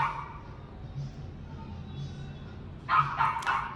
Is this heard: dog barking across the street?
yes